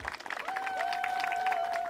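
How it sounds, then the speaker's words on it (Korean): An audience at a senior housing village's fountain installation ceremony applauds, a dense steady patter of clapping with a sustained tone running through it. "박수 주세요."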